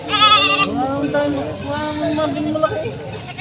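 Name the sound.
goats bleating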